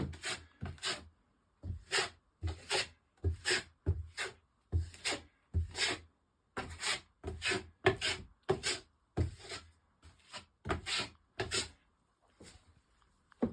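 Drywall trowels spread and knock down joint compound on a wall in a series of rhythmic scraping strokes, each a short, close rasp separated by brief pauses.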